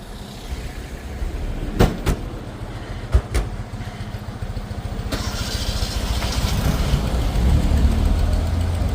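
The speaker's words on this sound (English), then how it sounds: "this is the Fiat 500 driving here in Modica." A vintage Fiat 500 drives through Modica, Sicily, its small engine running as a steady, close rumble that grows slightly louder toward the end, with a few sharp knocks early on and no talking.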